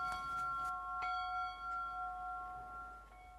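A single bell rung in Yamada, Iwate to commemorate victims of the disaster, a clear struck tone with a long sustained ring that slowly fades, quiet and alone with no voices.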